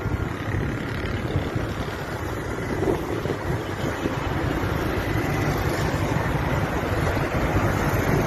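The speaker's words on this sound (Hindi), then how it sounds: "यहाँ पे पानी फेंका जा रहा है क्योंकि सारा ग्राउंड का बेड़ा खड़ा कर दिया इन्होंने" Water being thrown across an open rally ground in a bazaar, making a continuous rough splashing and rushing wash mixed with outdoor wind noise, steady and fairly loud throughout, with no talking.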